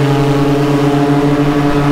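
A paramotor engine drones at steady high power during takeoff, a loud, close, even buzzing tone that holds without letting up.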